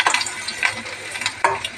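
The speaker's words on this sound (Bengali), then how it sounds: "রসুন কেটে রাখছি, রসুনটা দিয়ে দিলাম।" Chopped garlic sizzles steadily in a hot pan with fried chili, with a few louder scrapes and crackles as it is stirred, close and alone without talk.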